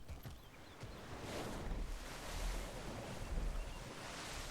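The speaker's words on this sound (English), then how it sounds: "Oh, I love this water." Water washing and lapping in Guild Wars 2, a steady broadband rush of surf-like waves with soft gusty swells, fairly quiet and continuous without speech.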